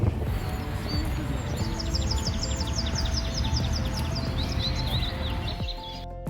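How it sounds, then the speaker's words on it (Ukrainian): Birds chirp and trill in quick repeated phrases over a steady, dense background roar like traffic, lasting several seconds before cutting off. "Я помічаю спів птахів, вітер у деревах, шум машин."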